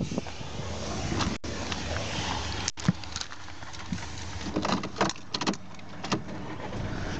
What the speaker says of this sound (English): Vehicle starts nicely.